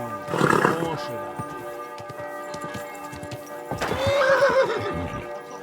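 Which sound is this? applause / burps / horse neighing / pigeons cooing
horse neighing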